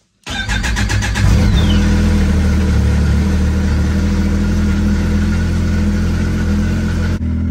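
A 270 HP Arctic Cat Riot snowmobile engine fires up abruptly and revs hard on snow, settling into a loud, sustained roar close by until it cuts off at the end.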